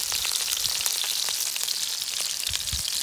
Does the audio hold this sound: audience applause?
no